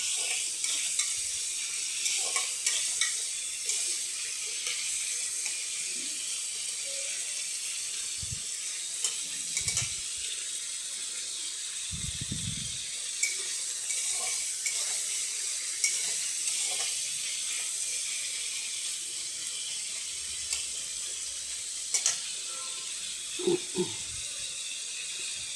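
Fish pieces shallow-frying in hot oil in a pan, a steady bright sizzle running throughout with occasional stirring clinks and soft knocks, close and continuous with no talking.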